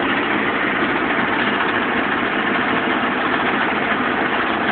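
A heavy truck with a 9-speed transmission pulls a heavy load up mountain grades in its power band, its engine a loud, steady, unbroken drone with no talk over it.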